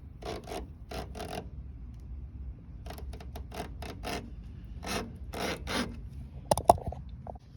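Old rubber spline being peeled from a patio screen frame with a razor nearby: a series of short, dry, scraping rasps in irregular bursts, close and fairly quiet, with a couple of sharper clicks near the end.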